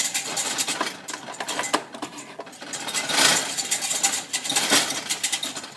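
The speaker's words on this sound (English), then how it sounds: "Just keep on whisking until all the mixture has been combined and you can see no lumps." A whisk beats a chickpea flour and yogurt mixture for Gujarati kadhi, giving rapid, irregular scraping and clinking against the bowl. The sound is close and continuous, with louder bursts.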